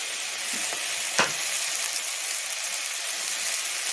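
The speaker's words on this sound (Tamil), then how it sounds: "இப்போ வந்து நம்ம வந்து கட் பண்ணி வச்சுக்கிற தக்காளி போட்டுக்கலாம்." Chopped tomatoes with a little salt sautéing in a pan for paneer butter masala, a steady sizzle filling the whole stretch with one brief louder crackle from stirring, close and unbroken with no talk.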